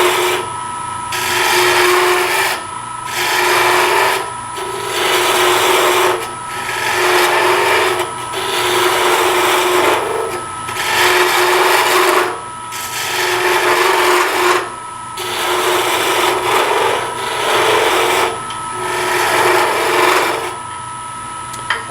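Gouge cutting a series of coves into a wood furniture spindle on a lathe, a loud close scraping rasp repeating in regular strokes about every two seconds over the steady lathe hum.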